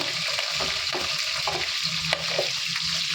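Capsicum and green chillies sauté in a pan for chilli chicken, giving a steady, loud sizzle of hot oil broken by light scraping taps of a spoon stirring, with no one speaking.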